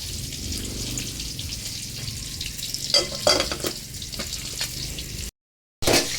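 Lemongrass stalks fry in a hot pan with a steady, busy sizzle and crackle, a few louder spits and stirring bursts rising midway before a brief drop to silence.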